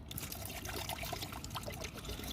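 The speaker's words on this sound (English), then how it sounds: "we're going to pour a second bottle in" DPF cleaning fluid, pre-mixed half and half with water, pours steadily into the diesel particulate filter of an Audi A6 Ultra 2.0 TDI. The pour is a close, continuous trickling stream with no voices over it.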